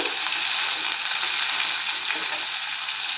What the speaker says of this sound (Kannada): ಮಸಾಲೆ ಎಲ್ಲ ಗೋಲ್ಡನ್ ಬ್ರೌನ್ ಕಲರ್ ಬರೋವರೆಗೂ ಫ್ರೈ ಮಾಡ್ಕೋಬೇಕು